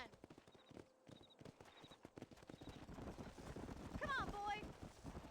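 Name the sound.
horse hooves clip-clopping in Red Dead video game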